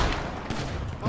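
Continuous dense gunfire in GTA 5 with the Pull Your Gunz Out mod, a steady loud wash of rapid shots filling the whole short stretch with no pauses.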